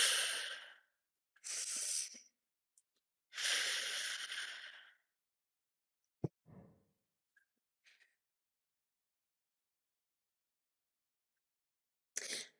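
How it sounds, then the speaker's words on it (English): Three slow, deep breaths, each a long airy inhale and exhale close to the ear, separated by quiet pauses, followed by a few faint small sounds and a last short breath. "Take 3 deep breaths."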